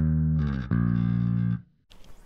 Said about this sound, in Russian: Вот, соответственно, риф идет по до минору с перебивкой на тон ниже